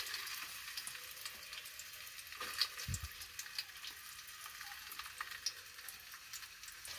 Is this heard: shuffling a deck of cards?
no